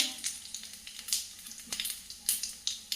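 Cumin and coriander seeds sizzling in hot oil for a Telugu mudda pappu charu, soft crackling pops scattered irregularly over a quiet frying hiss.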